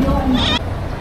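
A goat being sold at a market lets out a loud, drawn-out bleat close by, ending abruptly, with people talking around it.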